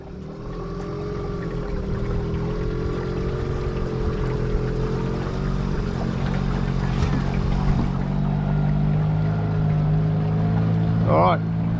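Small dinghy motors racing on water, an ePropulsion electric outboard against a 3 horsepower 2-stroke Yamaha outboard, giving a steady droning buzz with water wash for several seconds at close range.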